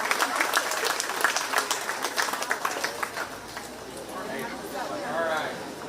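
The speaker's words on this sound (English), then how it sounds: "Let's make sure we put our hands together real loud for these young people in the ring right now" A crowd claps loudly and steadily for young people showing pigs in a 4H swine show ring at the Shelby County Fair, with the applause thinning out into general chatter and voices near the end.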